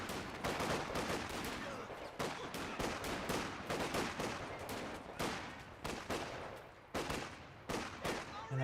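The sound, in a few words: gunfire in Company of Heroes 2 video game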